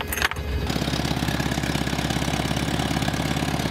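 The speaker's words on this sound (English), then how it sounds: "This is the 22RE four-cylinder motor." A Toyota 22RE four-cylinder pickup truck engine idles steadily with a low, even chugging rhythm, close by and fairly quiet, after a brief click at the start.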